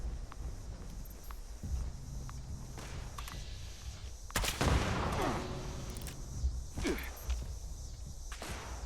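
Gunfire in the video game Fallout 76: a cluster of sharp shots bursts out midway over footsteps and ambient game noise, with a few scattered cracks later, at moderate loudness.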